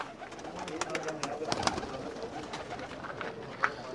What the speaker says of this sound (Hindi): अंसर भाई के जो कबूतर हैं, अंसर भाई के पास हो या मेरे पास, एक ही बात